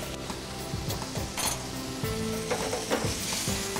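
Chicken stir-fries in a pan with ginger and white pepper, sizzling loudly while a utensil scrapes and clinks against the metal in an irregular rhythm.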